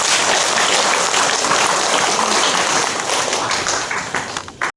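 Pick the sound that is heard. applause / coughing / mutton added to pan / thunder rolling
applause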